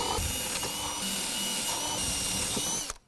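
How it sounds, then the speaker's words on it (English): Power drill boring drainage holes into a wooden brushtail possum nest box, a loud continuous whirring grind close up for about three seconds, then stopping abruptly with a brief clunk. "drilling some holes in there, which I'll do that now"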